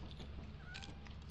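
A cat meows in the video game Lethal Company, a short, faint mew over a steady low background hum, with no voices.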